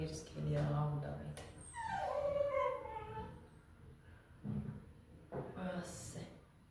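A dog whimpers and gives soft yips in a quiet indoor setting, the plaintive whines rising and falling while a person talks nearby.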